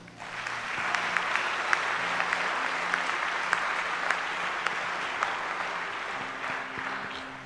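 A church congregation applauds steadily to acclaim Jesus, a dense, even wash of clapping that runs through the whole stretch with a low murmur beneath.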